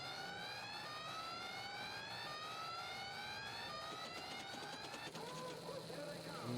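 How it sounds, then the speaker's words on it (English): Pinball machine sirens sound for multi-ball during a tournament at a pinball arcade: several rising, sweeping electronic tones loop steadily over a background of machine noise, with clattering flipper and ball sounds near the end. "And the sirens mean it's time for multi-ball."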